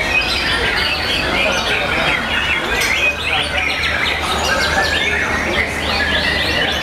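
Dense, bright white-rumped shama song pours out continuously, rich whistles and chirps overlapping with other birds in a busy, noisy outdoor songbird competition arena in Bogor.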